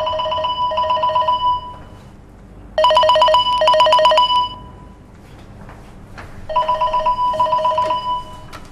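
A telephone rings in three separate bursts of a repeated electronic ring with short gaps between them, loud and close, with no talk.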